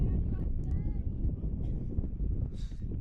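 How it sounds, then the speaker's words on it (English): A wind gust rumbles across a softball field during a high school game, buffeting the microphone as a steady low roar while a commentator talks over it. "Here comes the wind again."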